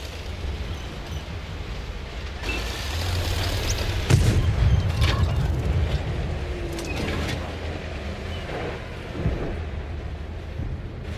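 An enemy tank gun fires in World of Tanks, a heavy boom landing partway through with a rolling low rumble after it, above a steady bed of engine drone and distant battle noise.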